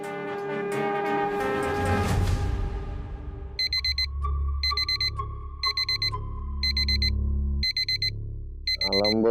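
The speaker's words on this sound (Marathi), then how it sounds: "अलार्म बंद करा रे." An alarm rings in repeated short bursts of high electronic beeping, loud and close, following a stretch of busy music-like sound in an indoor domestic setting.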